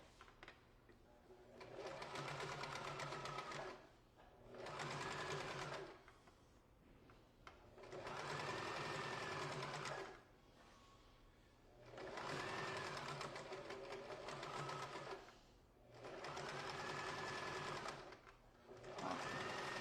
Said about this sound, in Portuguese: manter a distância do pezinho e costurar